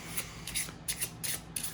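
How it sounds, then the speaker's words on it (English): A deck of playing cards for the Arkham Horror card game is shuffled by hand in several quick riffling bursts, soft and close, with no talking. "give this a quick shuffle"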